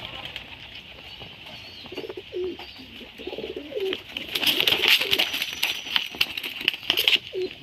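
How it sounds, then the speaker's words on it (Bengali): A male Talgaram pigeon held in the hand gives several soft, low, repeated coos at close range, with rustling and a burst of wing flapping in the later seconds. "এটা হলো নর পায়রা, যেটা আমার হাতে আছে, এটা নর পায়রা"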